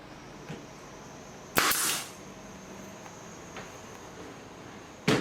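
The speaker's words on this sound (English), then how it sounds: "And now with the nail pressure gun, he will put some nails." A pneumatic nail gun drives nails into a wooden display shelf: two sharp, loud bursts about three and a half seconds apart, the first with a brief hissing tail, over a quiet steady background hum.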